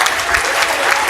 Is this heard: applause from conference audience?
yes